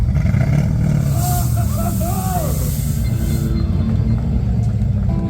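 A Koenigsegg CC series car rolls past at a lineup showcase, making a steady, loud low rumble with brief thin whines over it, while people murmur in the background.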